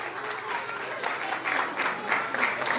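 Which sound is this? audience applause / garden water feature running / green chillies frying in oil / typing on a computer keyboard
audience applause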